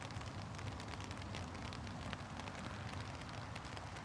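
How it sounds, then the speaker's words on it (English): Light rain patters in a steady, even hiss close by near an airport runway, with no voices over it and fairly quiet throughout. "Does that sound like light rain?"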